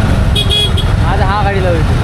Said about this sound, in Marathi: लिटरली गाणफाट ट्रॅफिक आहे